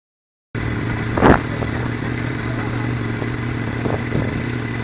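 BMW S1000R motorcycle engine rumbling at a steady idle nearby after a quiet start, with a brief clatter and a voice talking over it.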